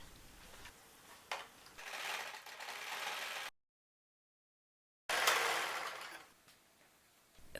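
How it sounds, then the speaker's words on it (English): Sewing machine stitching a balaclava hood, running in bursts with a mechanical whir, cut by a stretch of complete silence before resuming loudly. "Now I can sew it together."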